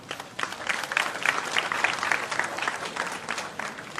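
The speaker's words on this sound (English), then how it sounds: "We should give all these people a round of applause." An outdoor audience at a community event in Gandhi Village, Debe, gives a sustained round of applause, dense and steady clapping from a crowd that stays even throughout.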